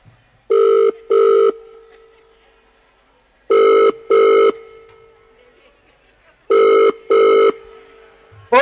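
A telephone rings in three pairs of loud, clear double rings separated by pauses, close and alone without any talk.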